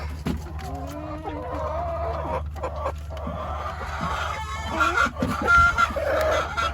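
A brooding hen in a chicken coop sitting on hidden eggs gives low, drawn-out clucks and murmuring grumbles close up, with a few sharper calls toward the end over a steady background hum.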